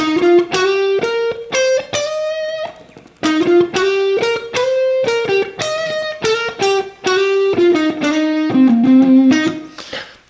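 An electric guitar with wah plays a bright, distorted pentatonic lick with passing tones, separate picked notes with short gaps, loud and close, with no other instruments.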